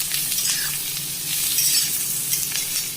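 Salted onions and tinda (ridge gourd) for a Sindhi-style sabzi frying in a pan while being stirred: a continuous loud sizzle with soft scraping strokes, close up and without speech.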